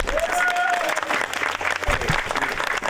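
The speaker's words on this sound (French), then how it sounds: "merci d'applaudir le Seigneur Jésus-Christ" An audience applauds at a comedy show, a fairly steady wash of clapping with a brief tonal whistle or cheer riding over it early on.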